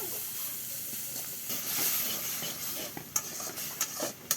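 Spices sizzling with shrimp in a frying pan, a steady hiss with occasional sharper pops and stirring scrapes near the end, for a red amaranth greens and shrimp dish cooked in a village kitchen.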